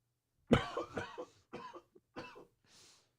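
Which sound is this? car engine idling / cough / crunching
cough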